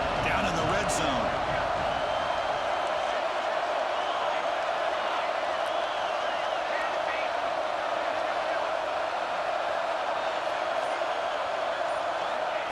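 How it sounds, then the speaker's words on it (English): A stadium crowd roars steadily at a college football game in EA Sports College Football 26, a broad continuous wash of noise behind play-by-play commentary. "And the crowd coming to life here, trying to help this defense down in the red zone."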